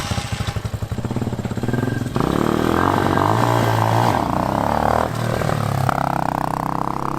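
A cheap enduro motorcycle bought on Amazon revs hard for a wheelie, its engine rising from a choppy idle into a loud sustained roar, close and without talk.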